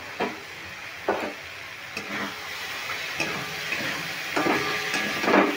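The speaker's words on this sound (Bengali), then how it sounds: "এবার আমি মশলাটাকে ভালো করে কষিয়ে নেব।" Spice paste frying in a pan for drumstick flower ghonto, a steady sizzle with periodic scraping stirs at a regular pace, close and fairly loud, with no talking.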